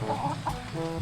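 Chickens kept at a fishpond give a couple of soft clucks over a steady low hum, fairly faint and brief, with no voices.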